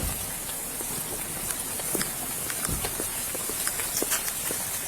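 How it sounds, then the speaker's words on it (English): Steady rain falls outdoors beside a roadside traffic stop, a constant hiss of drops with scattered sharper patters and taps, heard alone without voices. "since it's raining, let's go where it's nice and dry"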